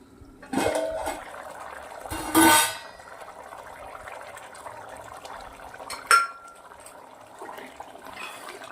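A lid clatters onto a metal pot of simmering pigeon pea (tuver) curry in a home kitchen. There are three sharp metallic clanks, the middle one loudest and longest, over a low kitchen background.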